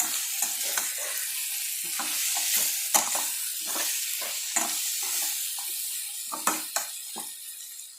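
A potato, tomato and eggplant curry is stirred in a pan, with repeated spoon scrapes and clacks over a soft constant sizzle, close and fairly quiet, no voices.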